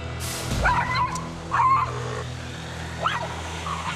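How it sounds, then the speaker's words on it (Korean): A small dog barking and yipping outdoors at night, three sharp bursts spaced about a second apart, fairly close, with whimpering edges over low traffic rumble. "또자의 짖음은 밤이 돼도 그칠 줄 모르는데요"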